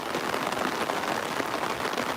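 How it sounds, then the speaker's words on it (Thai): Heavy rain pouring down on an open-air market in Ram Inthra, a dense, steady hiss of drops on surfaces throughout, loud and close with no voices. "ทุกคนฝนตก ฝนตกแรงมาก"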